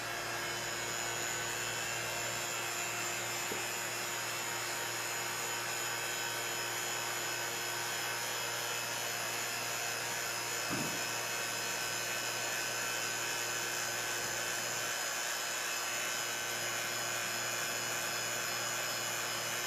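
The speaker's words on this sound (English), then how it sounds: "Then we're gonna cover it with the vacuum chamber and then turn it on and see what happens." A vacuum chamber pump runs with a faint, steady mechanical hum and whine, constant and unchanging, with a few soft knocks in the room.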